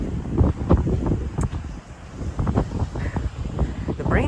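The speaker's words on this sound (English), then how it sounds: "Wind is kind of blowing my arms around when I'm taking photographs" Strong wind gusts buffet the microphone at a coastal lighthouse state park in Cape May Point, New Jersey, rising and falling in loud rumbling bursts with faint surf-like noise behind.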